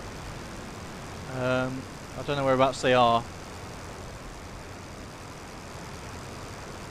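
A Sopwith Camel's rotary engine in flight in the Rise of Flight simulator, a steady continuous drone held at an even level throughout, with someone speaking briefly over it.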